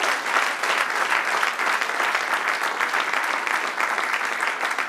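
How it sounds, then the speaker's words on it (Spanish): Sustained, even applause from a church congregation praising the Lord, many hands clapping densely and continuously at a steady loudness throughout. "Dele un aplauso al Señor"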